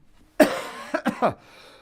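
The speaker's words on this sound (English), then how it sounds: "don't worry, folks, the cough, it's just tuberculosis with a side of pneumonia" A single sharp cough followed by a few quick, throaty hacking coughs, close and loud, then quiet.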